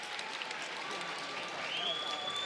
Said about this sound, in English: ladies and gentlemen, a round of applause for these two warriors